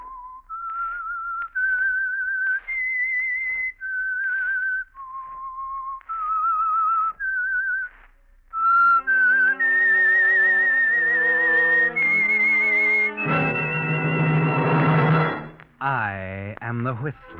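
A clear whistled melody of sustained notes, the theme of the 1940s radio drama The Whistler, then joined by a fuller orchestral swell that rises loudly before fading, with no speech over it.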